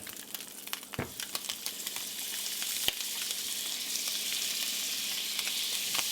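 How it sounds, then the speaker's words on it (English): Two tablespoons of butter melting in a hot pan on medium heat, a steady bright sizzle that builds and holds, broken early by a couple of sharp knocks, close with no talking. "We're going to add 2 tablespoons of butter."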